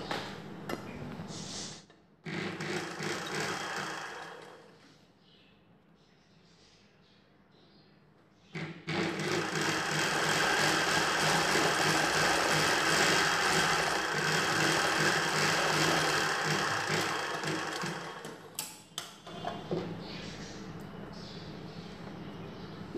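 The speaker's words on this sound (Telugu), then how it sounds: "ముందుగా ఇలా చివరన ఒక కుట్టు వేసుకోవాలి." A sewing machine runs while stitching a katori blouse, with a short burst of stitching, a pause of quieter handling, then a long, loud, steady run of several seconds before stopping and a few light clicks.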